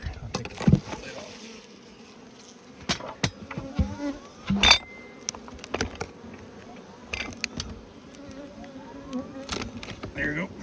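Honeybees buzz around an opened hive in a bee yard, a faint steady drone with sharp close passes and clicks, while someone speaks now and then.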